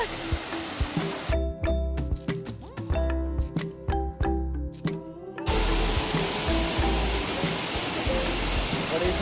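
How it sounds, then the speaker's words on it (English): Nauyaca waterfall in Costa Rica roaring with a loud, dense rush of falling water. The rush breaks off for a few seconds of sharp clicks and tones, then returns strongly. "Looking forward to that waterfall."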